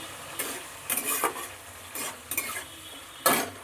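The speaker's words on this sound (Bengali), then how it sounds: "এইবার টমেটো আর ক্যাপসিকামটাকে আমি আগে ভালো করে একটুখানি ভাজা ভাজা করে নেব।" Tomato and capsicum fry in a pan, stirred with a utensil in four or five short scraping bursts over a soft background sizzle, quiet and close with no talking.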